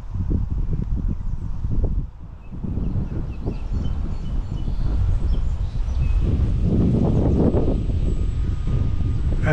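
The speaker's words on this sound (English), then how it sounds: "And it's windy." Strong wind roars and buffets the microphone continuously at an RC model airplane flying field, with a brief lull before gusting back louder.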